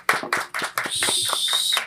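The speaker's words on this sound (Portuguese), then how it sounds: "Uma salva de palmas," A short burst of applause from the studio audience and crew welcoming a guest on a film-cinematography talk show: a few sharp, uneven claps, then a steadier patter of clapping with a thin whistle-like tone, close and fairly loud.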